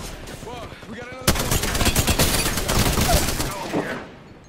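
Gunfire in a video game shooter, a dense fusillade of rapid shots erupting suddenly after a quieter opening with faint game sounds, continuing loud and close before tapering off at the end.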